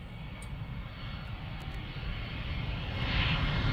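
A deportation flight's airplane engines roar in a loud, continuous drone that swells slightly toward the end.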